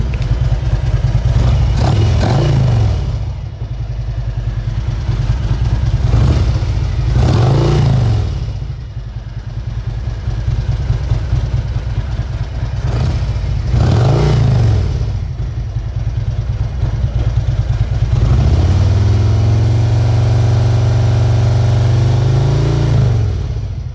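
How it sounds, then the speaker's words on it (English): A motorcycle engine sputters and strains to catch, revving loudly in repeated bursts that fade back between attempts, then settles into a steadier, rougher idle-rev toward the end. "The bike didn't sound like it wanted to start up all the way though."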